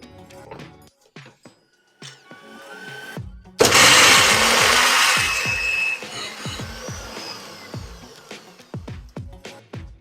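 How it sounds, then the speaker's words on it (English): A blender whirs loudly and steadily as it grinds onions, garlic and ginger into a smooth paste, starting abruptly after a few quiet knocks and running on for several seconds. "we're going to blend this to a smooth paste"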